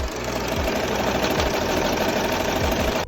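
An embroidery machine stitching a hat runs with a rapid, steady mechanical chatter and rhythmic thumps, loud and close, with no talking.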